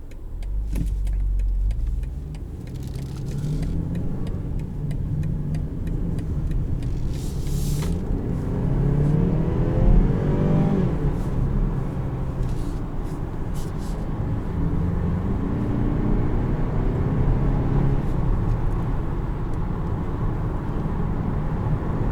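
A 2022 BMW X4 30i is driven on the road, its engine giving a loud, continuous low drone mixed with road and cabin rumble that swells slightly in the middle. No one speaks.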